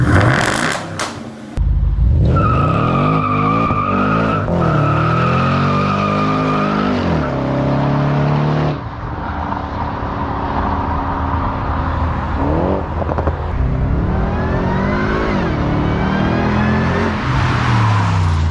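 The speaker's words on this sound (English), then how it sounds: "that V8 can't go wrong with it, man, and it sounds pretty good" A supercharged 5.0-litre V8 producing 510 horsepower revs loudly and repeatedly, its pitch climbing and falling through sharp throttle blips and sustained high-rpm pulls, close and alone with no talk.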